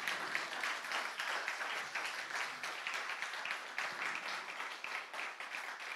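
A church congregation applauding during a Sunday service, a dense, sustained burst of clapping from many hands filling the room at moderate loudness, with no voices above it.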